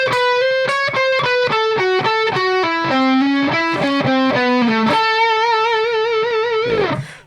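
Distorted electric guitar plays a bluesy major pentatonic lick over a steady backing: quick, even picked notes stepping down and back up, then one long held note that rings out and cuts off, loud and close.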